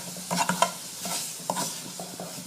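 Shredded cabbage cooking and being stirred in a pan for low-carb cabbage fufu, soft scraping strokes and light clatter over a continuous gentle sizzle, close up and without speech.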